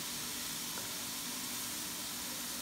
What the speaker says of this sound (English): let's put 2 tablespoons of fish sauce